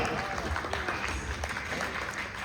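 A steady wash of audience applause greets the winner of the first task at a doctors' association event. The dense, continuous clapping fills the whole moment.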